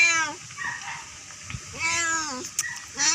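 A hungry female cat meows repeatedly in a series of drawn-out calls, close and fairly loud against a quiet room.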